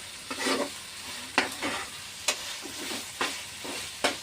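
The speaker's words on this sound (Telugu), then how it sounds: "ఈ ఉల్లిపాయలు అల్లం పేస్ట్ ఈ పలవా దినుసులు ఇవన్నీ చక్కగా ఇలా మగ్గుతాయి" Onions, ginger paste and whole spices sautéing in a pan for fish fry biryani, a steady close sizzle broken by several sharp scraping stirs at irregular intervals, with no voices.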